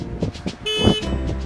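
A car horn honks several times in quick succession, close and loud, with short toots running into a longer sustained blast over faint background road noise.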